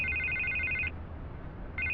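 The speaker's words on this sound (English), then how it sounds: "I can't get the phone to stop ringing." A telephone ringing in the Batman: The Telltale Series video game, an electronic trilling ring that sounds, pauses and starts again, heard clearly without talk.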